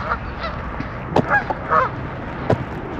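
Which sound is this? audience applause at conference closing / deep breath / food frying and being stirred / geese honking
geese honking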